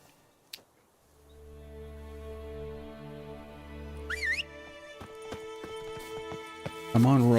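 Hoofbeats of Roach, Geralt's horse in The Witcher 3, galloping: a quick, irregular clatter of hooves that grows busier toward the end, set against a steady tonal drone and a voice.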